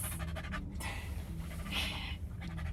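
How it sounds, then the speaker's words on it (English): An exhausted dog panting hard and out of breath, close up, in rapid rhythmic huffs that run steadily throughout. "When he's so exhausted and out of breath like this, he reminds me of Stitch"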